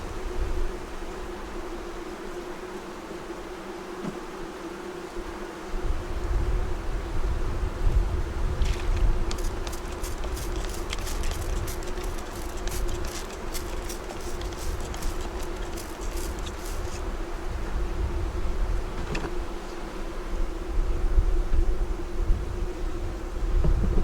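Honey bees hum around an open five-frame hive, a steady close buzzing drone mixed with outdoor wind noise throughout.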